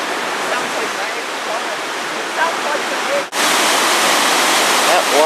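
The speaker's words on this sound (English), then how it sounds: "That water is moving fast." Fast water rushes through a narrow gorge beside a historic road route, a loud, steady wash of broadband roar that fills the whole stretch and cuts out briefly partway through.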